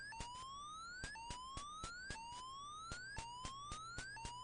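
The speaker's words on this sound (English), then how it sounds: "Yeah, that's the alarm" A guard alarm siren in the stealth game Infiltrator, a looping electronic wail rising in pitch with each cycle, punctuated by sharp regular clicks, steady and clear with no talk.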